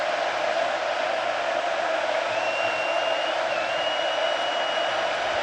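Stadium crowd noise at a college football game between Alabama and Texas A&M, a steady, even roar from a large crowd with a faint whistle-like tone drifting above it partway through.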